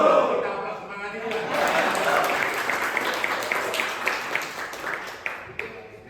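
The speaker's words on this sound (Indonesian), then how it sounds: "Kita aplaus semangat itu." Classroom of students applauding together, a moderate burst of clapping that swells, holds and thins toward the end, with some voices mixed in.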